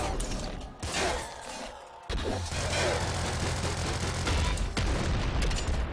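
Rapid gunfire and mechanical weapon clatter from the Nuclear Throne video game, played as the Robot character on level 3-3: a dense, loud, continuous barrage of shots with a brief lull partway through.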